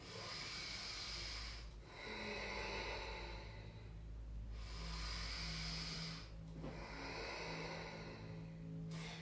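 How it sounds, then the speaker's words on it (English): Two long, deep breaths during a yoga flow, each a broad airy inhale and exhale that swells and fades, heard close and alone over a low steady hum. "In gratitude, breathe into your heart 2 big breaths."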